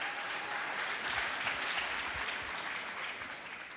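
Audience applause for the Vice President at an economic policy event in Charlotte, North Carolina, a steady, even clapping from a sizeable crowd that fades slightly toward the end, with no voices over it.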